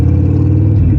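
A Harley motorcycle engine rumbles loud and close under throttle. It holds a steady, low, deep drone for the whole short moment, with no talk.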